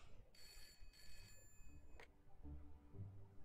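Telephone ringing in the Broken Sword video game, two short bursts of bright ringing close together, fairly faint, followed by a soft click and low thuds with no one talking.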